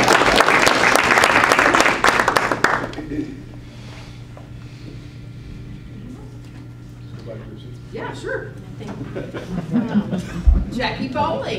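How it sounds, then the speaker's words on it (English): A graduation audience claps loudly for about three seconds, then the applause drops away into a quiet room with faint murmuring and scattered voices. "then we will do a round of applause at the end"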